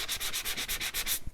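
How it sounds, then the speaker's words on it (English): Rapid back-and-forth rasping as the edges of a red paper scrapbook hat piece are sanded, about ten even strokes close up with no talking. "we have this one more hat, and we're going to sand it like the others"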